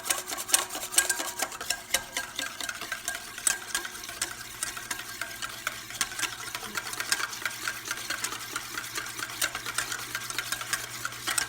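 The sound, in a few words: whisking and mixing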